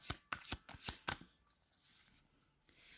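Tarot cards are shuffled in a few quick, crisp riffling bursts close to the mic, then give way to faint rustling and near quiet.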